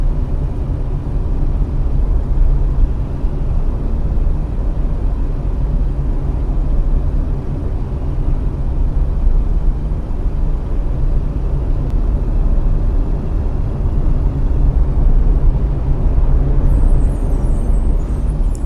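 Bus driving through a storm, with a steady low engine rumble and broadband road and wind noise, loud and continuous, no voices present.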